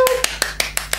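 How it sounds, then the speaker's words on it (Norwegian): Someone claps at a birthday celebration, six sharp, evenly spaced hand claps close by in quick rhythm. "Jeg vet ikke hvorfor det fortjente en applaus."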